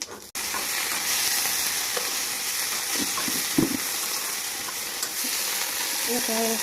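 An Assamese chutney fries in a pan with only a little oil, a steady close sizzle and hiss throughout, broken by a few soft clinks and stirring scrapes.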